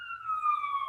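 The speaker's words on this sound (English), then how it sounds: "Ambulance is coming for Karen." An ambulance siren sounds as a single steady, slightly falling high tone that is clear and moderately loud, with no voices over it.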